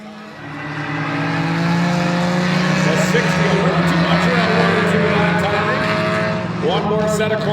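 Mini stock race cars howl around the Oyster Bed Speedway oval on the final lap, their engines rising and sweeping past in a loud, continuous roar with a voice talking over them.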